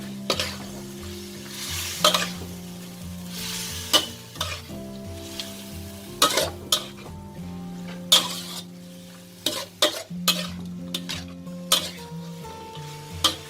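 Fish and celery stir-fried in a pan with chili, spring onion and a splash of water: steady close sizzling broken by repeated scraping and stirring strokes of a utensil against the pan.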